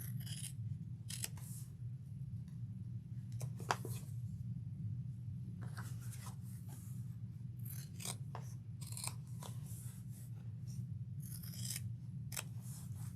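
Scissors cutting through fabric pieces for a first tote bag: repeated crisp snips and rasping slices over a steady low hum, close and fairly quiet, with no talking.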